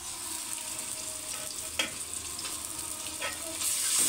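Onions with ginger and garlic sizzle in hot oil as a spoon stirs and scrapes through them, a continuous close frying hiss punctuated by a few sharper stirring strokes.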